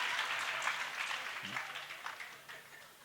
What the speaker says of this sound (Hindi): बजा तालियां ढंग से जरा।